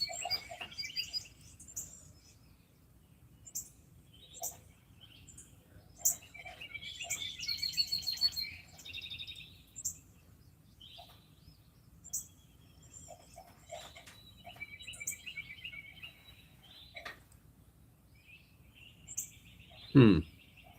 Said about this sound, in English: The birds are dancing around on the gutters.